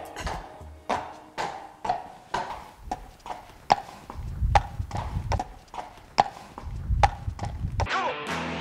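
Steady clip-clop of a saddled horse's hooves walking on firm ground, regular evenly spaced strikes close by, with a faint whinny-like sound at the end.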